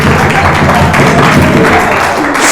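Students clapping and applauding in a school class session, a dense, steady burst of many hands that is loud and close throughout.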